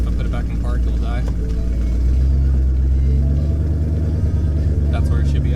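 Twin-turbo Mustang engine idling under a lifted car, a steady low rumble close by that deepens and firms up partway through, with people talking over it.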